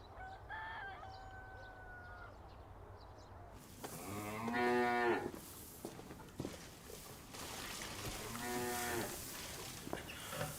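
Cows moo in long, drawn-out calls, two clear bellows a few seconds apart over a steady outdoor background, with a rooster crowing faintly at the start.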